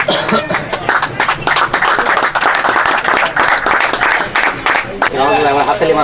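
Steady clapping from a gathered crowd at a pigeon flying competition prize distribution ceremony, dense and loud throughout, with scattered coughs and chuckles mixed in.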